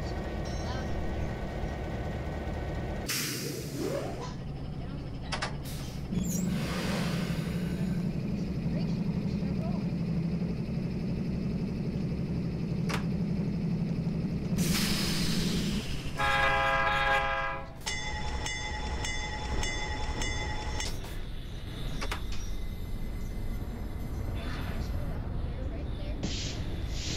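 CN freight train driven in Garry's Mod, with a loud steady rumble and clatter inside the cab and repeated blasts of a multi-tone air horn, including a long sustained blast near the end.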